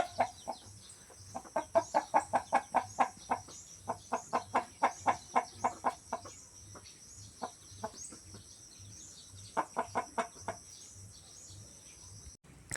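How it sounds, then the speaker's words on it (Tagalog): Chickens cluck in rapid bursts of short repeated calls in their coop, close by, with pauses between runs and faint insect chirping in the background. "tapos na po natin pagkain yung manok dun sa kulungan nila"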